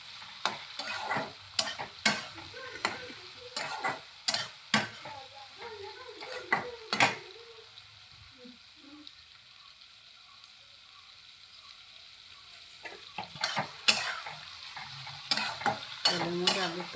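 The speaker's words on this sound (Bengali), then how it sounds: "তেলের মধ্যে আগে একটু ভাজতে নিচ্ছি" Cooking in hot mustard oil, heard as sharp, repeated spoon scrapes and taps against a pan over a faint sizzle, with a quiet gap midway and a brief murmur of voice.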